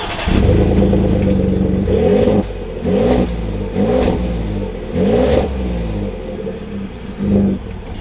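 The engine of a 2021 Ford F-150 Sport XLT pickup rumbles and rises in repeated revving surges as the truck pulls away, heard close and loud with no voices.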